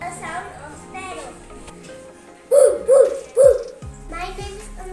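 A third-grade child vocally imitates a dog, letting out three loud, close barks in quick succession after some soft chatter, with children's voices murmuring around the barks.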